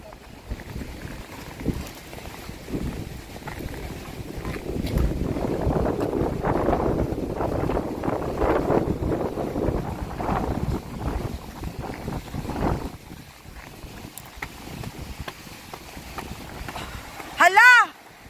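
Strong wind buffets the microphone beside a fast-flowing river, a gusting roar that swells in the middle and fades later, with people talking over it and a sharp knock near the end.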